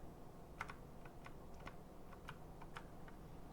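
Computer keyboard typing while playing Hollow Knight: scattered light key clicks in an irregular rhythm over a steady low room hum, fairly faint and close.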